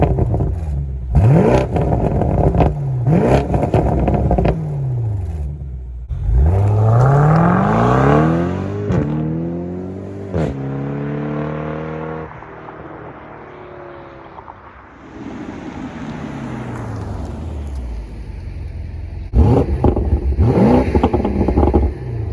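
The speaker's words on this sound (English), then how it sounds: "Now my car has an aftermarket exhaust, but even with the stock setup, it sounds amazing." BMW M850i twin-turbo V8 with an aftermarket exhaust revving hard in repeated loud blips, the pitch sweeping up and falling back, then a long rising pull and further revs, with no talking.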